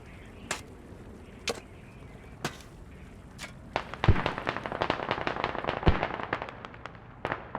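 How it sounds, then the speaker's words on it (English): Mortar fire in the video game Squad on the Belaya map: a few sharp isolated cracks at first, then a dense run of overlapping blasts and two heavy thumps, all heard from a middle distance. "mortaring right here."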